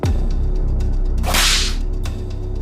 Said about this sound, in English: An Egyptian taskmaster raised his whip high.